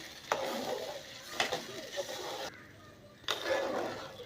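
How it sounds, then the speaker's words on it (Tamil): Maida flour halwa being stirred in butter in a pan, with a few distinct scraping strokes at intervals and a soft, close sizzle running between them; no one speaks. "இப்போ வந்து இதை நல்லா கிளறி விட்டுக்கலாம்"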